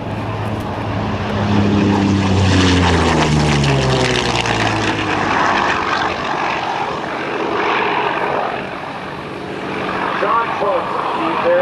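A Yakovlev Yak-9 propeller warplane roars past low and fast over the field at a naval airshow, its engine drone sweeping down in pitch as it passes close, then lingering loud with a commentator talking over it.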